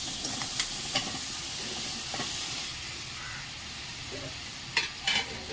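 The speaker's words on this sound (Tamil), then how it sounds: "உருளைக்கிழங்கும் முருங்காயும் போட்டுருவோம்" Potatoes and drumsticks go into a simmering prawn curry and are stirred, making a bright steady sizzle and hiss with scattered scrapes of the spoon and a few louder knocks near the end, close and without talk.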